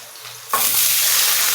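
Chicken pieces and browned onions fry in a pan, then water poured in sets off a sudden loud, steady hissing sizzle that continues to the end.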